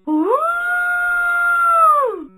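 A wolf howls in one long, loud, sustained note that rises at the start, holds steady, then falls away, heard close and alone.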